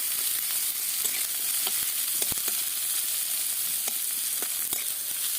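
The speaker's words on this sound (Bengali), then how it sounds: "পেঁয়াজ কুচি কাঁচা লঙ্কা কুচি একটু লাল লাল করে ভেজে নেব" Chopped onion and green chili frying in a pan, a steady close sizzle with scattered clicks and crackles from stirring, no voices.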